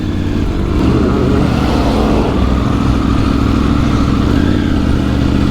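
A Triumph Tiger 900 Rally motorcycle engine holds a steady, loud drone under constant throttle while riding through desert sand, a continuous near rumble with no talking.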